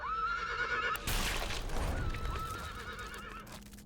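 A horse in a video game gives a loud, close whinny, followed by a brief rush of noise and a softer trailing neigh, with no speech.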